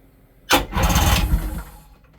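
The starboard engine of a 1996 Sea-Doo Speedster twin-engine jet boat cranks and catches, roaring to life abruptly and then settling into a rough rumble, loud and close, with no voices.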